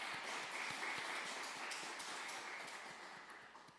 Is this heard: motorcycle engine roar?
no